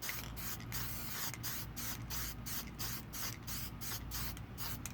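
Clear coat sprays from an aerosol can while customizing a GI Joe figure: a steady close hiss with short regular pulses as the nozzle is pressed in quick bursts.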